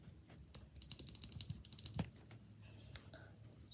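Typing on a mechanical keyboard fitted with Akko Jelly Black switches, giving a quick, uneven run of soft clacky keystrokes, heard close and fairly quiet with no talk.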